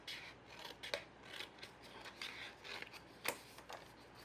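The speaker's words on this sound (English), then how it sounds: "I'm just gonna fussy cut it out" Scissors snip through paper while fussy-cutting a piece for a flying reindeer craft scene, a quiet sequence of separate close cuts with uneven spacing and two sharper snips standing out.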